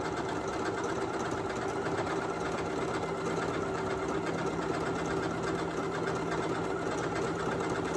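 A Janome Memory Craft MC9450 sewing machine runs steadily, stitching a decorative border for quilting or a hemline. Its even motor drone and rapid needle chatter continue loud and close for the whole stretch, with no talking.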